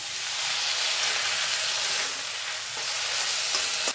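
Pointed gourd sizzles in hot oil with cumin, ginger and garlic paste, a steady, dense frying hiss that stays loud and close without pause.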